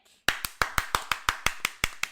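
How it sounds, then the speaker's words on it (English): One person's hands clap close and crisp in a steady, evenly spaced rhythm, about a dozen sharp claps in quick succession with no other sound. "lots of applause that we are doing in front of our live studio audience"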